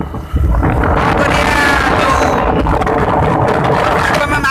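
Motorbike riding along an outdoor road, with loud, constant wind buffeting the microphone over a low engine rumble, close and steady throughout.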